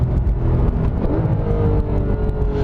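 Porsche 991 GT3 engine on a canyon road at part throttle, a steady low rumble with rising engine whine, heard from inside the car with no talking.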